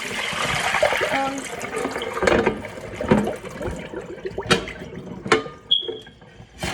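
Tap water runs and splashes while pots are rinsed in a home kitchen after making mac and cheese, with irregular clatters and knocks of dishes in the sink and a brief squeak near the end.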